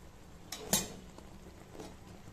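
A spoon stirs thickening food in a cooking pot over a lowered flame, giving a couple of soft, close metallic clinks and scrapes against a quiet background.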